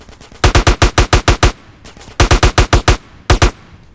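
Gunfire in the video game GTA San Andreas: loud, close bursts of rapid automatic shots, a run of about eight, then a second burst of about seven, then two more, with short pauses between.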